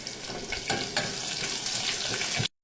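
Onions dropped into a hot pan begin frying, a dense hiss and sizzle at close range, with brief stirring knocks, cutting off abruptly near the end.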